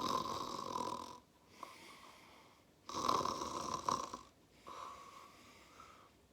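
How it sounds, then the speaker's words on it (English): A grandpa asleep on the bottom bunk of a boy's bedroom snores loudly and steadily, each long rasping inhale followed by a quieter breath, in a slow repeating rhythm with no talk. "fast asleep on the bottom bunk of the boy's bedroom, snoring for England"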